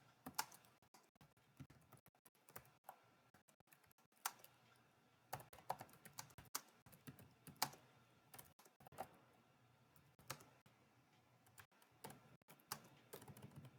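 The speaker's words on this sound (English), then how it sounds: "Keep hitting the wrong keys there." Quiet, close keystrokes on a computer keyboard come in irregular bursts of clicks with brief pauses between runs.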